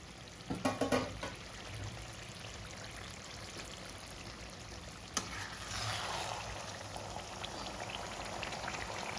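Masala and prawns fry in a pan, a soft, steady sizzle and crackle with a few sharp clicks and taps early on and a brief louder burst of spattering midway, all fairly quiet and close.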